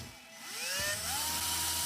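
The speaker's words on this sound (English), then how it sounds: "now let's drill a hole as well" A handheld rotary tool drills a hole into a plastic action figure's arm, its high whine rising steadily in pitch as the bit spins up and then holding a loud, even buzz.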